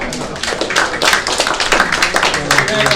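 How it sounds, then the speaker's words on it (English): A crowd claps together, a steady patter of many hands at close range with some voices mixed in. "Let's give these guys a round of applause."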